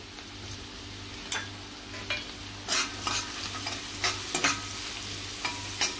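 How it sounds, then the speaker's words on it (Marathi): Onion sautéing in a pan with curry leaves and a pinch of asafoetida for a Maharashtrian field-bean curry (valache birde): a steady close sizzle with a low hum beneath, broken by several sharp spoon scrapes and stirs. "आता कांदा थोडा परतून घ्यायचा आहे आपल्याला। त्याच्यामध्ये मी कढीपत्ता घालते आणि हिंग घालते चिमूटभर।"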